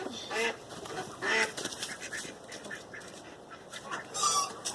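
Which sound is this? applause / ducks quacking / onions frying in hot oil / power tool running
ducks quacking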